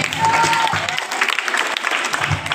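Applause from a crowd at a neighborhood Ganesh festival gathering during a mimicry performance, a dense burst of clapping lasting a couple of seconds, fairly loud and close, with a faint tone briefly over it.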